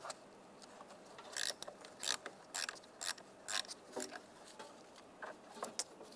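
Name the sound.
loosening battery terminal nut with 10mm socket wrench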